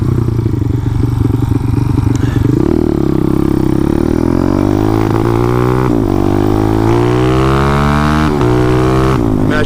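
A motorcycle engine with a slow carburetor runs and revs steadily up close, pitch swelling and dipping with light clatter and no talk.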